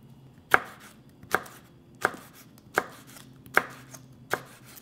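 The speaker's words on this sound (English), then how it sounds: "Cut this one really nice, beautiful" A knife chops a red vegetable on a cutting board in six crisp, evenly spaced strikes, close and clear, with no talking.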